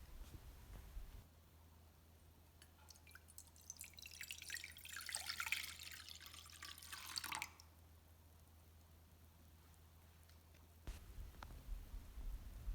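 Warm fresh milk poured into a bowl, a steady liquid splash rising for about six seconds and then cutting off, alone and fairly close.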